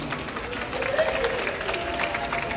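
Crowd applause at a Polynesian dance show at Ala Moana Centerstage fills the space, a steady wash of clapping from many hands that swells slightly midway and holds at a moderate level.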